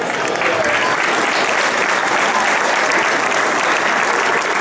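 Audience applause at a youth football tournament award ceremony, a steady dense clapping from a crowd that fills the whole stretch at an even, fairly loud level.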